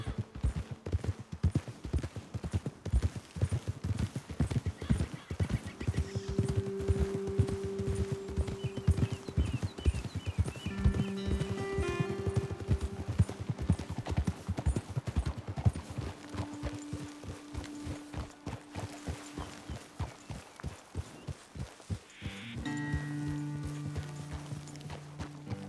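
Horses clip-clop steadily along a trail in the video game Red Dead Redemption 2, the hooves near and rhythmic throughout, with a brief whinny and occasional game music tones underneath.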